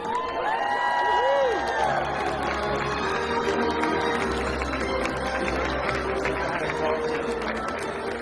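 A large crowd cheers, whoops and applauds at the 25th anniversary ceremony at Disney's Animal Kingdom on Earth Day, a sustained outdoor roar with scattered shouts and whistles over background music.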